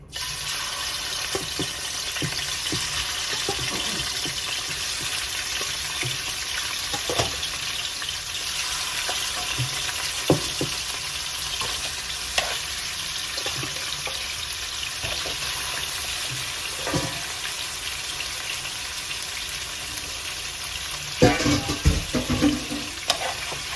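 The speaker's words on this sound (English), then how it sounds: "Fry the fish so that we can start to cook the sauce." Fish fries in hot oil with a continuous crackling sizzle, scattered pops, and occasional clatters of a pan or utensil. No one is talking.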